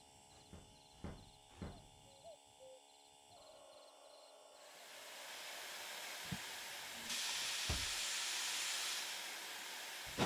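A small steam locomotive in the Derail Valley train game hisses steadily, the broad steam noise swelling in the second half and alone after a few soft clanks and tones at the start.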